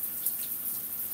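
Shower water runs steadily while a pet parrot is bathed, a constant close hiss of spray with a few slight splashes, without any talking.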